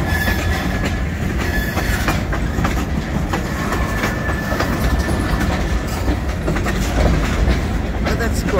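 A train rolls steadily over switch points while crossing onto another track, with dense clickety-clack wheel noise and rail rumble throughout, a faint squeal tone riding above.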